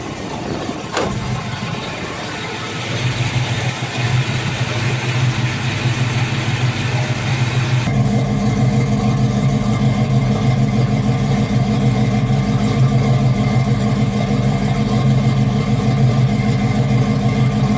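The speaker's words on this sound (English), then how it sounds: "I'm really happy with those Black Widow mufflers." A Buick 350 V8 with Black Widow mufflers, freshly started after long storage, idles with a deep steady burble and then settles into a louder, rougher sustained rumble, close and continuous with no voices.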